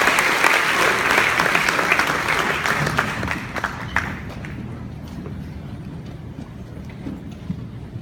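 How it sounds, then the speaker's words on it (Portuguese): A church congregation applauds together, a dense loud clatter of many hands that swells early and then slowly thins and fades over about eight seconds, with no talk over it. "Aplauda o Senhor"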